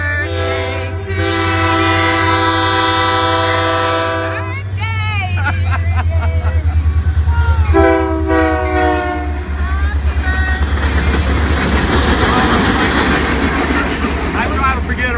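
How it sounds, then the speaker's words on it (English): A train rolls past with its horn blaring in long repeated blasts, a steady low rumble of wheels underneath, while a crowd babbles and voices sing nearby. "Well, here comes a train."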